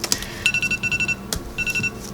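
A phone timer alarm goes off nearby, a rapid series of short, bright electronic beeps in two quick bursts, with faint clatter in the background.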